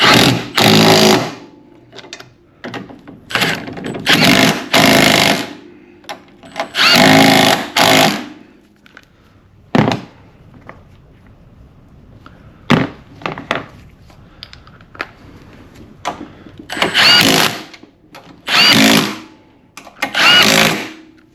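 Power tool tightening the front strut bolts on a 2008–2012 Honda Accord, heard as loud repeated bursts of rattling impact with short pauses between, some bursts longer, fairly close.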